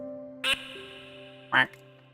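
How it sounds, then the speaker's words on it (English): A duckling in the video game Minecraft gives two short quacks, the first near the start and a louder one about a second later, over a steady tonal game background. "We've spawned a duckling."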